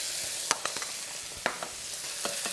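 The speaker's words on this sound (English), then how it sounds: "Pop that into the oil, bring the aromatics over the top of the paste so that that paste cooks through nicely" Curry paste with lime leaf and aromatics fries in hot oil for a Thai-style leftover roast chicken stir-fry, giving a continuous sizzle broken by several crisp spatula knocks and scrapes.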